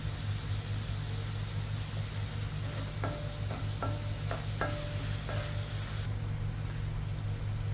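Bitter gourd and zucchini sautéing in a pan, a steady close sizzle with a few sharp clicks of a utensil stirring against the pan midway.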